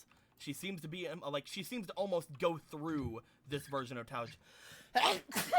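A person sneezes sharply twice near the end, right after steady conversational talk during a Pokémon tabletop roleplay session.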